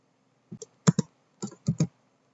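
Someone types the sudo command on a computer keyboard: about six crisp, close keystrokes in two quick bursts, with quiet gaps between them and no talking.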